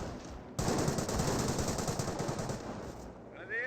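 Grenadier squads fire away in a Company of Heroes battle, a loud, sustained burst of machine-gun and rifle fire that starts abruptly and rattles on for about two and a half seconds before tapering off.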